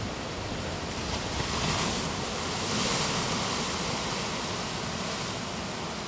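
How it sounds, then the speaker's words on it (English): Ocean surf on Costa Rica's Central Pacific coast where rainforest meets the sea, a steady broad roar of breaking waves with gentle swells in intensity and some wind, no voices. "This is Costa Rica's Central Pacific coast, where the rainforest meets the sea."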